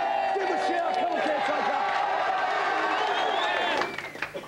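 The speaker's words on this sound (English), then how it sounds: "Give them a cheer." A television game-show studio audience at a team championship final cheers and applauds loudly and steadily, with voices and whoops over dense clapping, then the noise drops off sharply near the end.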